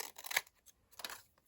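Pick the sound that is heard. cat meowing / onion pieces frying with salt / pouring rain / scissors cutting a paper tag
scissors cutting a paper tag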